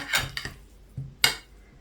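A few soft, dull thuds and scraping knocks in a quiet kitchen as a masher presses down into a pot of boiled potatoes for börek filling, spaced irregularly.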